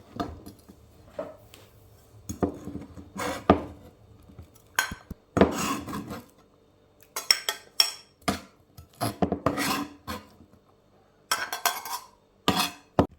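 A knife chops green onion stalks on a board, giving bursts of quick, close, crisp chopping knocks separated by short pauses, with occasional clinks of utensils and no talking.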